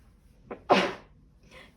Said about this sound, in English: I know I'm gonna sneeze, and I've never sneezed on video